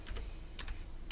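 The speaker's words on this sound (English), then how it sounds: "And then just type in the word promoting." A few soft keystrokes tap on a computer keyboard as a word is typed in. There are three quick clusters of clicks, faint and close, with no talking.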